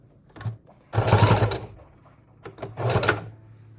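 A sewing machine stitches small fabric scraps for junk journal embellishments in two short close bursts of rapid needle chatter, separated by quiet pauses.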